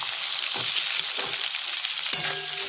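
Potatoes and green chillies fry in oil with black cumin seeds for a fish dish, a steady, loud, close sizzle with a single clink of a utensil near the end.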